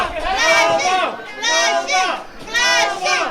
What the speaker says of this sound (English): You hear that split crowd once again.